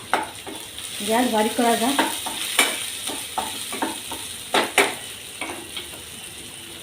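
Green peas hit a hot pan for a flax-seed rice dish and sizzle softly while a spoon scrapes and stirs in uneven knocks; someone briefly speaks over the frying.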